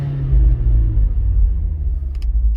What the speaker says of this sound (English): So here's a cold rev from inside of the car